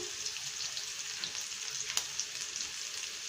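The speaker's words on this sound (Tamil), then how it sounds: "வரமிளகா, ஒரு நிமிஷம் வதக்கிக்கோங்க" Dried red chillies sauté in a pan for a green bean and moong dal kootu, a soft, quiet, continuous sizzle with a light stirring scrape about midway. No talking.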